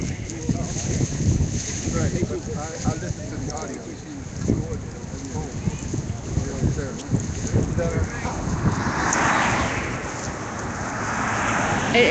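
Strong wind blowing outdoors in cold weather, a steady loud roar and buffeting against the microphone that swells toward the end, with gusty rumble throughout.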